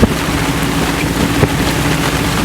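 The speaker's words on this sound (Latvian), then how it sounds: "vējš paliek stiprāks, lietus līs" Strong wind blows at sea during an approaching thunderstorm, a constant loud roaring rush with buffeting gusts against the microphone, heard close and alone without voices.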